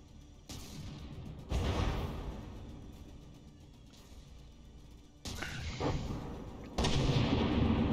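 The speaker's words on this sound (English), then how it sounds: "There it goes. Finally got a shot off." A forward-facing fixed tank gun firing in the From The Depths video game: several loud, booming blasts land a few seconds apart, each with a sharp onset and a lingering rumble, with no talk.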